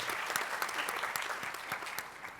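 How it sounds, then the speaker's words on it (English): Applause from a panel event audience, a steady wash of many hands clapping with a few sharper individual claps standing out, continuous and even throughout, moderately loud. "Please applause."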